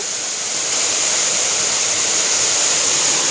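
A monsoon waterfall in the Ajodhya hills pours with a loud, steady hiss and roar that swells slightly in the first second, then stays constant and close, with no voices.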